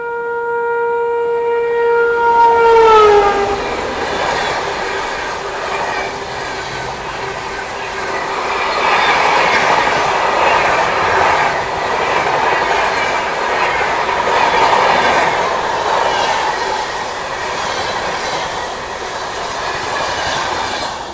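Sealdah-Ajmer express train rushing past on the adjacent track, a loud continuous roar of wheels and rail clatter with a brief horn-like tone at the start, no talking.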